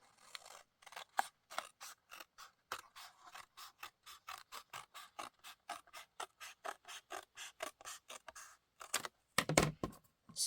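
Paper snipped along a line with scissors while making junk journal ephemera, a long run of crisp, evenly paced close cuts, each a short sharp snip, ending in a louder burst of rustling.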